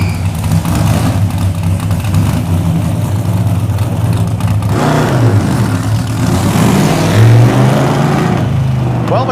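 A Hemi V8 gasser car engine runs loud and close, rumbling and revving as it pulls away down an alley, with rising surges of engine roar while testing the clutch.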